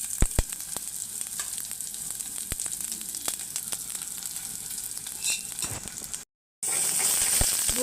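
Gongura leaves hit a hot pan over fried ginger paste for a Godavari-style gongura prawn curry, giving a steady close sizzle with scattered sharp crackles and a brief silent break near the end.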